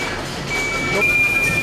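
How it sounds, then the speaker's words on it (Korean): A conveyor machine's warning alarm in a busy parcel sorting centre sounds a steady high-pitched electronic beep over a noisy mechanical background, continuous and moderately loud. "뭔가 심상치 않은 경보가 울린다."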